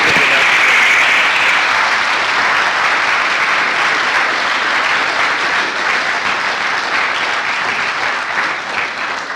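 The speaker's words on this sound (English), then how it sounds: "I think with that round of applause, you've said just about everything I want to say." Sustained, dense applause from an audience at a journalism week event after guest speaker Seymour Hersh's talk, loud and steady throughout, slowly tapering near the end.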